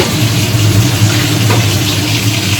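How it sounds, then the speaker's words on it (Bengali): A kitchen chimney exhaust runs loudly over a stove where fish is frying, giving a constant droning motor hum with a faint sizzle, close and steady throughout. "এত জোরে চিমনির আওয়াজ হচ্ছে"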